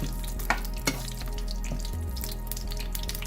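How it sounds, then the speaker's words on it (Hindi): Whole spices and black peppercorns frying in hot oil in a pan, giving a steady close sizzle and crackle with a few sharp pops near the start, with no talking. "इन सबको हम पहले इसको फ्राई करेंगे।"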